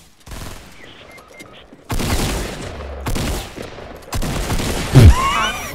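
Gunfire in the video game Fortnite comes in loud, dense bursts of rapid shots, several separate volleys packed close together in the game audio with no one talking over them.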